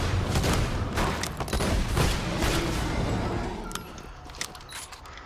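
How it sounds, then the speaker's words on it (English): Gunfire crackles in the video game Borderlands 2, a string of sharp pistol shots amid a busy, loud firefight that gradually tapers off toward the end. "I'm using up my pistol ammo."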